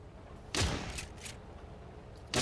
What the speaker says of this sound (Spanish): Están pegando tiros